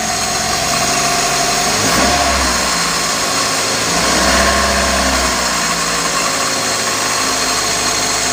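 A Daihatsu Gran Max engine with its air cleaner removed runs cold at a raised idle, a loud, steady, close mechanical drone that swells slightly twice as the revs lift and settle.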